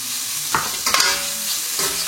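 Veal kidneys sizzle steadily in a hot frying pan while being stirred, with a few scraping clatters of the utensil against the pan over a constant close frying hiss.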